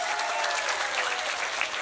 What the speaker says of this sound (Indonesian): saya minta tepuk tangan dulu luar biasa.